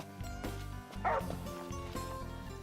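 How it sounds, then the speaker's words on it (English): A dog in the Final Fantasy XV video game gives a few quick yipping barks with a brief whimper, heard over steady game music and ambience. "Hey, it's the doggy."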